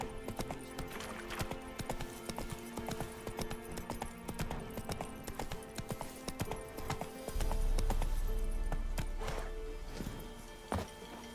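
Hooves of Roach, Geralt's horse in The Witcher 3: Wild Hunt, clip-clop in a steady walking rhythm over game music, with a heavier low rumble and a single whinny toward the end.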